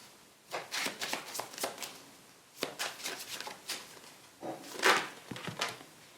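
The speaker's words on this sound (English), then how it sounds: "you have like cards falling all over the place" Tarot cards shuffled and spilling onto a surface, a run of crisp riffling and slapping bursts in three clusters, close and fairly quiet with no talk.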